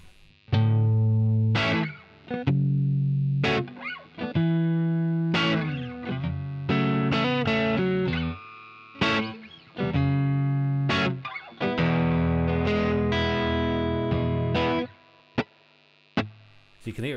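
A guitar played through the distorted dirty channel of a Koch Studiotone 20 tube amp head with light spring reverb, loud, close chords and notes ringing out with short gaps between phrases.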